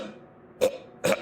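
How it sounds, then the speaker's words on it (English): A man coughs twice in quick succession after a quiet pause, close and dry, as a harsh throat-clearing cough. "He coughed."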